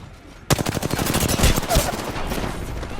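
Video game gunfire erupts suddenly after a brief quiet moment, a rapid automatic burst of close, loud shots that rattles on continuously to the end.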